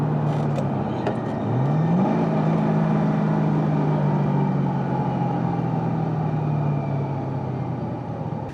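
A Ford Mustang drives along a road on a bright day, a steady engine hum heard from inside that rises in pitch as it accelerates and then holds an even cruising drone.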